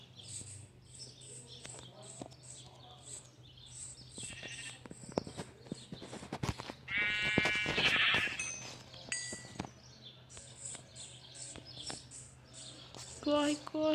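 Sheep bleat repeatedly in a survival video game, several short nasal bleats spread across the scene over a low steady hum, with bird chirps and sharp clicks and thumps from gameplay.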